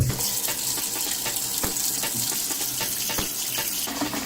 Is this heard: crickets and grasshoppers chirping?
no